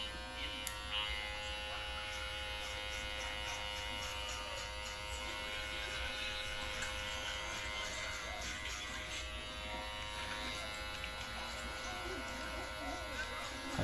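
Electric hair clippers with the half guard lever open buzz steadily through a home haircut, a continuous close hum with slight shifts as the blades move through hair.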